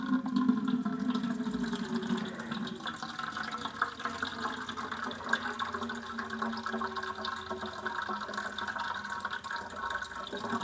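Water runs steadily into a watering can, a continuous gurgling rush that stays fairly even from start to finish, with no voices.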